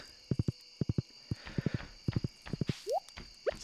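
A horse in the Stardew Valley farming game clip-clops along in quick triplets of hollow hoof beats, steady and close, with a brief rising whinny-like chirp near the end.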